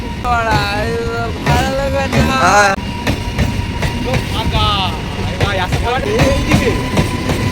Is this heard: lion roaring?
no